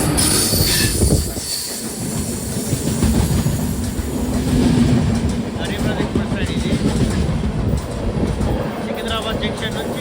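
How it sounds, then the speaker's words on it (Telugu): The Secunderabad–Visakhapatnam Garib Rath Express rumbles past close by, loud and continuous, with steady wheel clatter and high squealing throughout and faint voices mixed in. "సికింద్రాబాద్ జంక్షన్ నుంచి మనకు విశాఖపట్నం జంక్షన్ వెళ్ళే గరీబ్ రథ్ ఎక్స్ప్రెస్ ట్రైన్ ఇది"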